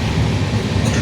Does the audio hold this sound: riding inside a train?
yes